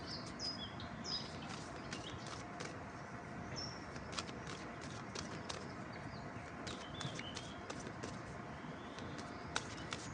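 Birds chirp and call outdoors, faint and distant, amid a steady low background murmur, with scattered brief tweets throughout.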